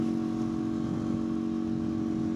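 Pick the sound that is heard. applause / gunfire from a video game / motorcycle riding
motorcycle riding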